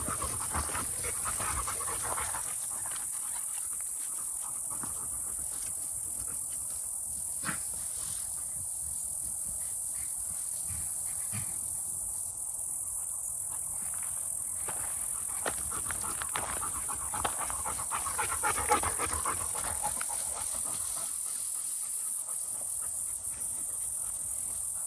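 Dogs out on an early-morning walk pant steadily and close by, with a constant high drone of crickets and insects filling the background the whole time, and no talk.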